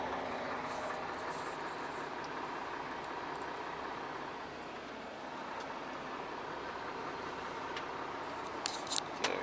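A Volvo truck with an automatic gearbox pulls away. Heard from inside the cab, the engine rumble is steady and faint, with a slight dip midway and a few short clicks near the end.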